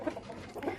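A young Kuda Lari breed chicken giving two short, soft clucks close by, with no talking.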